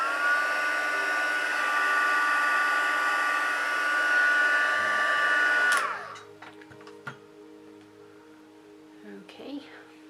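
A heat tool blows steadily on embossing powder, a loud, even whirring drone that runs for several seconds and then cuts off abruptly, leaving near quiet with a few faint clicks.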